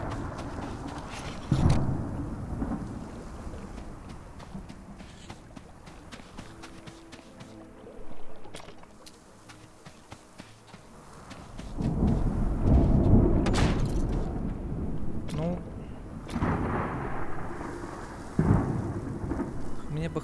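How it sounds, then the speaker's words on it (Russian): A thunderstorm in the Smalland video game, with sharp thunder cracks and heavy rolling rumbles over continuous rain, swelling and fading across the scene, loud and close. "Ну конечно, и буря, блин."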